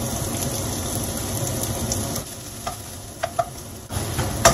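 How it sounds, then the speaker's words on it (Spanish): Chopped onion hits hot oil in a pan, a loud dense sizzle right away that drops a little after two seconds, with a few light clinks and a fresh surge of sizzling at the end. "ya calentó el aceite entonces voy a agregar la cebolla"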